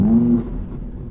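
An Audi R8 V10 performance with a 620 PS engine fires up close by from inside the cabin, a brief starter whine rising into a loud low rumble that settles to a steadier idle.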